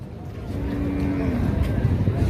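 Bull at a busy cattle market in Devarakadra, giving a single drawn-out low moo that rises over steady crowd noise and murmuring voices.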